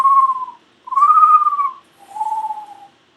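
A person whistles three sustained, slightly wavering notes imitating a bird call, each separated by a short pause, clear and close.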